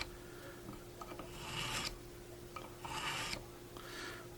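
Sterling carbide sharpener drawn along a knife blade edge: several soft, close rasping strokes in a slow rhythm with pauses between them, faint overall over a low steady hum.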